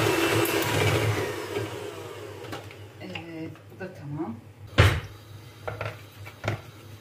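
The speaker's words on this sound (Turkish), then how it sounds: "Şöyle mikserimizi açalım." An electric mixer whirs loudly while beating a batter of flour in a home kitchen, running steadily at first, then stopping. A voice speaks over the later knocks and clatter.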